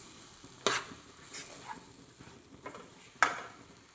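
Small pineapple pieces fry gently over low heat in a pan for kesaribath, a soft sizzle beneath a few sharp scraping stirs of a spoon against the pan, heard alone.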